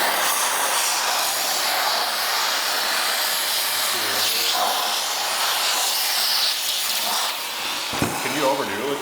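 A steady, loud hiss of steam from a steamer sprays continuously at close range onto a C5 Corvette, with faint voices briefly surfacing toward the end.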